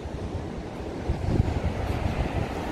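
Ocean surf rolling onto the beach at the Arenera in Mar del Plata on a day with clear water and some current, a steady low wash mixed with wind rumble on the microphone.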